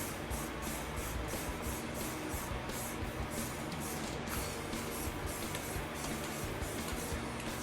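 Aerosol exhaust paint sprayed onto a Mitsubishi Eclipse transmission in light coats, a steady close hiss with rhythmic pulsing bursts throughout, no talking.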